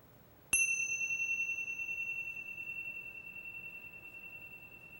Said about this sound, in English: until you can't hear the sound of the bell anymore